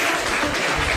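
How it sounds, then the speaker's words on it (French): Steady crowd applause, dense and continuous clapping from many hands for about a second, with no voices standing out. "Bravo, on applaudit alors."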